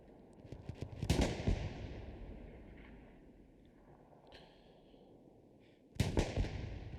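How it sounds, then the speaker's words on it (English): Distant tank battle gunfire in Hell Let Loose, two heavy booming blasts a few seconds apart with rumbling decay and scattered faint cracks between them. "Lots of long-range tank battles going on right now, though."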